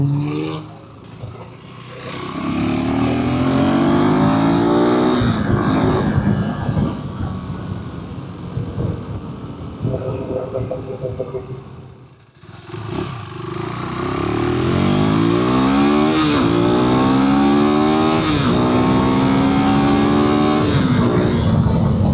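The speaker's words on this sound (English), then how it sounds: "I do have to say this motor sounds less rattle-trappy" A 2025 KTM 390 Adventure R single-cylinder motorcycle accelerates on the road, engine pitch climbing through the gears in repeated rising sweeps, loud and close over wind noise, with a brief dip when the throttle eases.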